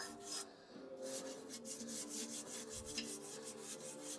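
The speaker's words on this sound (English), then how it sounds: "I'm just brushing the surface rust off." A stiff brush scrapes surface rust off an old potbelly stove's metal in quick, rhythmic rasping strokes, close and fairly quiet.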